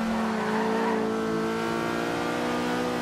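Racing car in Forza Horizon 2 accelerating at a steady high rev, a sustained engine drone with tonal harmonics, driven with a G920 wheel during a career-mode semifinal race; engine runs alone without talk.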